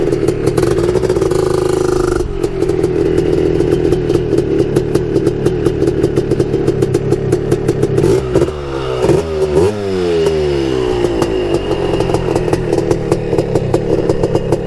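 A big bore 330 Honda TRX250 two-stroke ATV engine runs close by while warming up, with a raspy, crackling idle, rapid popping, and rising and falling revs throughout.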